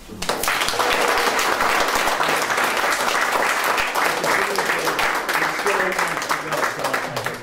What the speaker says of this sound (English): we owe him a tremendous round of applause